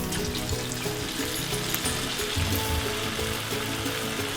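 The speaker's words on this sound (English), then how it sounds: "you see it's ready because it's starting to sizzle up" Onion pakora batter frying in a pot of hot oil, a steady continuous sizzle and bubbling at close range with no talking.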